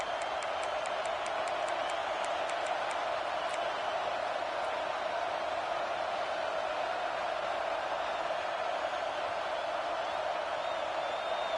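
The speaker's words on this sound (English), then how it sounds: "with this place rocking, the crowd forces a false start" A roaring stadium crowd at a college football game against Oregon makes a steady, dense wash of noise, with faint rhythmic claps early on.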